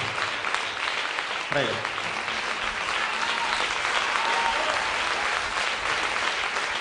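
A theatre audience at a live comedy show claps in steady, dense applause throughout, with a brief spoken word heard over it.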